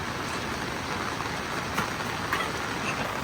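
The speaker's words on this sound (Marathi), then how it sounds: "पाऊस चालू झालाय मस्तपैकी" Steady monsoon rain pours down at a waterfall trek spot in Maharashtra, a dense, even hiss of drops with no voices, a couple of slightly sharper splashes standing out near the middle.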